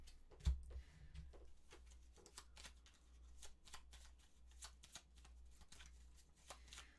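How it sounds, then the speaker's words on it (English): Gloomhaven modifier card decks being shuffled by hand: soft, rapid papery riffles and taps in an irregular run, close and fairly quiet, with a low steady hum underneath and no talking. "We have to shuffle the monster modifier deck as well as the Craig Hart's"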